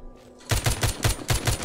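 Rapid automatic gunfire in The Walking Zombie 2 begins abruptly after a short quiet moment: a loud, close burst of about nine evenly spaced shots.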